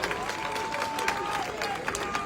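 Oòduà choir singers clap for themselves at a Yoruba palace gathering. Scattered, uneven applause runs under crowd murmur and a sustained musical tone.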